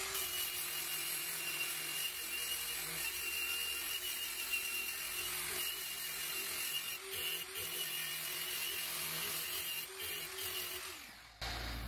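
Porcelain tile being worked with 1500-grit sandpaper on a power tool, giving a continuous high-pitched whirring grind that holds steady before cutting off at the end.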